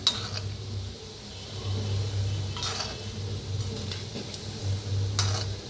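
Gulab jamun balls frying in oil, a soft continuous sizzle with a low pulsing hum and occasional clinks and stirring sounds, no speech.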